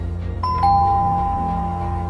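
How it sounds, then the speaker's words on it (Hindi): A doorbell chimes once with a clear two-tone ding-dong and rings on over a steady low background hum inside a home late at night. "दरवाजे की घंटी बजी"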